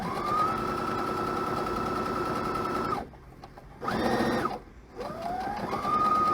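A sewing machine stitches quilt binding with fusible thread, running in a steady whir for about three seconds, pausing, then buzzing in two more short bursts, close and fairly quiet.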